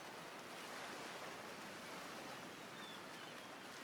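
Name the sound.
ocean waves on a beach, from a video game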